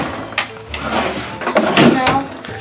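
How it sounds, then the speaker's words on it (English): A bedroom drawer is pulled open during a search for a hidden basket, giving a few wooden slides and knocks under overlapping talk. "Drawer?"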